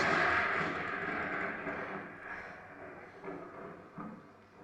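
A deep, broad rumble of thunder rolls out loudly, then slowly fades, swelling briefly a few times as it dies away.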